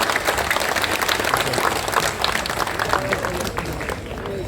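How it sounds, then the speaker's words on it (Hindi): A crowd at a political gathering applauds to welcome a former chief minister, a dense, steady wash of clapping that carries on for several seconds before easing slightly at the end. "सब लोग जोर से ताली देकर उनका स्वागत कीजिए।"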